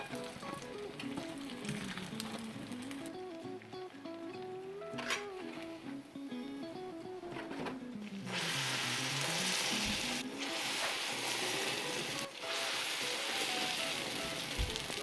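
Yemeni zalabia dough fries in hot oil, a soft crackling sizzle that grows louder and denser partway through, with occasional clicks and bumps of handling and no talking.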